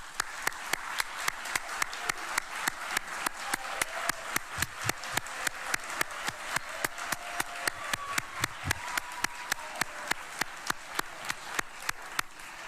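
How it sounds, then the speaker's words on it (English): Applause for award winners at an awards ceremony, heard as a crisp, evenly spaced train of sharp claps, close and steady for about thirteen seconds as if a few people are clapping in rhythm. "Let's have another a round of applause for our award winners here"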